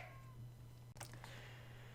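Cats in Minecraft meowing faintly over a steady low hum, one short mew rising early and a quick higher cry near the midpoint, quiet and close.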